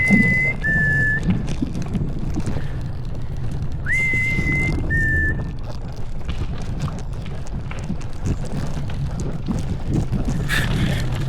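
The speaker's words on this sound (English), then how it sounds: "If you're wondering why I'm whistling" A person whistles while cycling along the Royal Canal in Ireland, two short pairs of clear, sliding whistle notes over steady outdoor wind and rolling noise, then only the background continuing.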